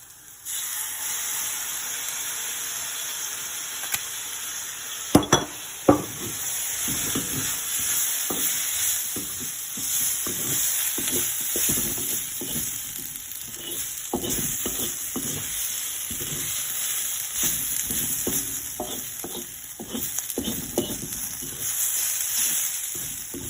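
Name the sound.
spicy and sour potato stir fry frying in pan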